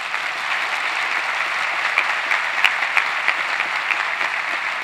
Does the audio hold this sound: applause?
yes